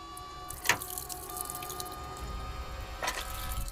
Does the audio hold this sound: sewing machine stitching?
no